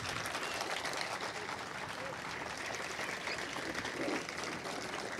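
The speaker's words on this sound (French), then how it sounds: "Je crois que l'artiste mérite davantage d'applaudissements." Audience applause for a Brazilian muralist at the unveiling of a giant mural in Cotonou, a steady wash of clapping throughout, moderately distant and even, with no individual claps standing out.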